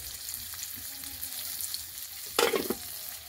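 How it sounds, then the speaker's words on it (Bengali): Chopped onion, crushed garlic and dried chili fry in a little oil, giving a steady quiet sizzle with occasional stirring scrapes and one brief louder clatter. "পেঁয়াজ রসুন আর কুচানো শুকনো লঙ্কা ভাজা ভাজা হয়ে গেছে"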